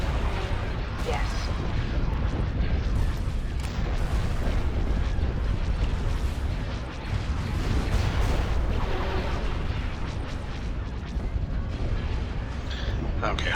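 The rebel capital ship Home One pounds enemy shields in a Star Wars space battle from the Awakening of the Rebellion mod, a dense, continuous roar of heavy booms and blasts with no pauses.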